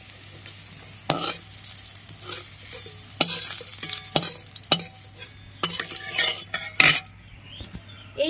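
Pieces of bitter gourd frying in hot oil sizzle steadily while a metal spatula scrapes and clinks against the pan in sharp, irregular strokes as they are lifted out.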